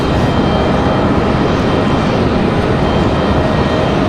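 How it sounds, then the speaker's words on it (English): Loud, close roar of a Delta Airbus A319 airliner arriving at Raleigh-Durham International Airport, a dense steady engine rumble filling the whole stretch with no voices. "Next arrival is going to be that Delta 2521 coming in from Minneapolis. That's going to be that A319."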